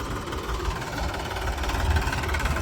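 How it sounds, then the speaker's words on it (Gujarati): A tractor engine labours in low gear on a farm: a continuous low, rumbling drone with a knocking, vibrating texture that holds steady for a few seconds without voices. "ટ્રેક્ટરને લો ગેરમાં નાખી દીધું હે"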